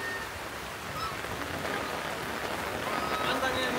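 Steady rain falls across a rooftop garden, a dense even hiss of drops on leaves and surfaces that holds at a constant moderate level throughout, with no clear voice standing out above it.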